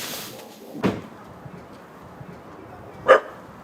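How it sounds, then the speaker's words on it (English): Dog hidden under steps beside a Detroit freeway gives two short, sharp barks about two seconds apart, moderately distant over quiet background rumble. "I'm hearing another bark from over here"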